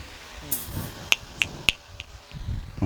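Three crisp finger snaps in a quick, even sequence, each about a third of a second apart, counted for a hearing test at a live prayer meeting in Marapulu Varipalem, against faint background noise.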